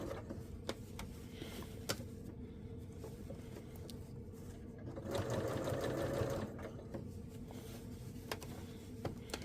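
A sewing machine topstitches a dress facing, running steadily with a continuous mechanical whir that grows denser and louder midway before easing back, with a few small clicks and no speech over it.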